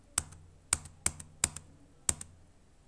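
Keystrokes on a computer keyboard while entering quantities in Tally GST accounting software, six sharp clicks in an uneven rhythm, close and clear with no talk.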